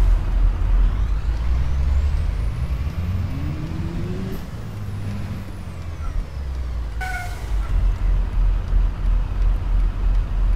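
A Volvo city bus in the OMSI 2 driving simulator rumbles with a steady diesel engine drone and shifting revs, then gives a sharp, loud air-brake hiss partway through.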